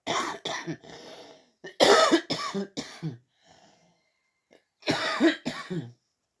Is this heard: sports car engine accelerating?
no